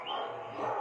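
A dog at a training kennel lets out a brief, close, whining yelp that trails off, faint and short, with no other sounds around it.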